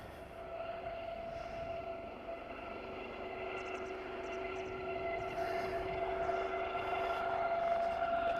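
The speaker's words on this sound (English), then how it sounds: "a big, big helicopter" A big helicopter winds up on a hillside over a bay, its turbine whine and droning rotor noise steady and fairly distant, slowly growing louder.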